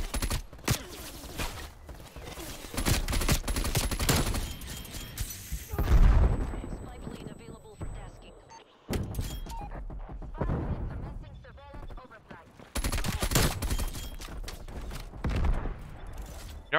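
Burst-fire gunshots from the KSP 45 in Call of Duty Cold War, arriving in repeated loud clusters of booming shots separated by quieter gaps, with a voice talking over parts of the gameplay.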